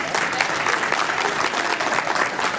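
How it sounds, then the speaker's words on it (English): Sustained audience applause fills the room after an address, many hands clapping steadily and fairly loud for the whole stretch with no voices on top. "Give Dr. Getchen another round of applause, please"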